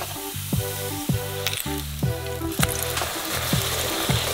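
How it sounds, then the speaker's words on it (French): Batter-dipped nori triangle deep-frying in hot oil, a steady sizzling hiss running the whole time beneath a rhythmic musical backing with regular beats. "On trempe le triangle de nori d'un côté. Et on le fait frire."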